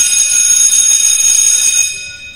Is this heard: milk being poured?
no